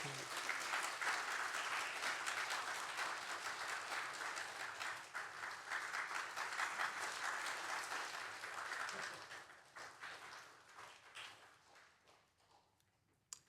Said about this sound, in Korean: 우리 박수로 축복하고